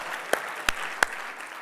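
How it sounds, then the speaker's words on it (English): Applause from an audience at a digital branding conference: a brief patter of clapping, with three sharp, louder claps standing out near the front. "Let's give her a round of applause."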